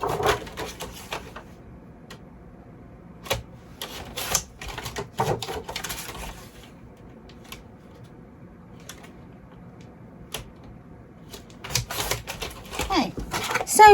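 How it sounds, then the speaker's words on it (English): A paper trimmer slices off the edges of paper, giving several sharp, brief cutting clicks and slides spaced irregularly over a quiet background. "So I'm going to just use my trimmer and trim off those bits there."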